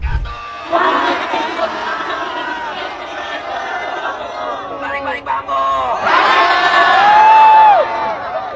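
A street demonstration crowd outside parliament shouts and cheers loudly, with overlapping voices, whoops and chants that swell near the end, while individual people call out close by.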